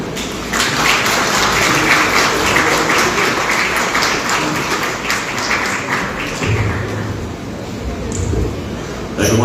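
An audience applauds Team Massey at a live event in Signature Hall, steady dense clapping that holds for several seconds before thinning slightly, with a voice speaking over it.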